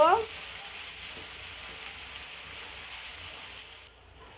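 Spices with turmeric and salt stir-fried in a pan, a steady soft sizzle with faint scraping, a brief sharper noise at the very start and a drop near the end.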